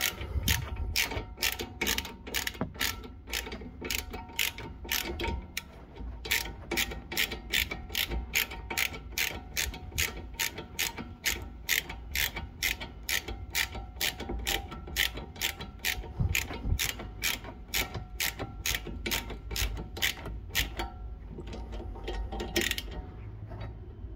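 A hand ratchet tightens the rear brake caliper bolts on a car's right rear wheel, clicking in a fast, steady run of close, loud pawl ticks that continues for about twenty seconds with only brief pauses.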